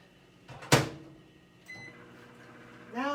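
A microwave oven with a knocked-off rotating plate: a sharp clunk of the door or plate, then a low steady hum as the oven starts running, close by in a kitchen.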